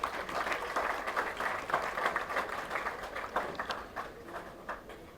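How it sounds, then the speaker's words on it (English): Applause from the audience at a university convocation, honouring graduating postgraduates, rises as steady, fairly faint clapping from a crowd and keeps a dense, even texture for several seconds before thinning near the end. "Can we have a big round of applause for these postgraduates?"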